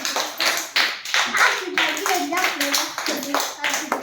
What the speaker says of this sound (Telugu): చప్పట్లు పెట్టండి అందరూ.